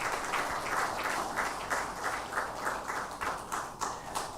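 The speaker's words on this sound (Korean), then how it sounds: "은혜를 찬양해 주신 성가대원들에게 다시 한번 감사의 박수하겠습니다" A church congregation applauding the choir during a Sunday worship service, a soft, somewhat distant patter of clapping with a loose pulsing rhythm, fairly quiet and with no voices over it.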